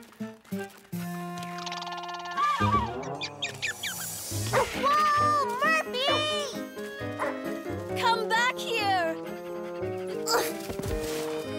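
A cartoon dog gives repeated loud barks, yips and whimpering whines in quick bursts, mixed with speech and music throughout.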